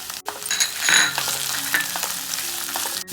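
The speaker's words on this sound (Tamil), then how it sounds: "காய் நல்லா பாதி வேக்காடு வர்ற வரைக்கும் வதக்கிக்கலாம்." Beans and carrots sauté with onion and ginger-garlic paste in a pan, a continuous close sizzle with intermittent stirring scrapes and clinks throughout, no voices.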